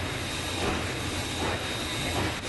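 Steam locomotive getting underway with its crew aboard, giving a loud, continuous hiss and rumble close by, steady throughout with no voices.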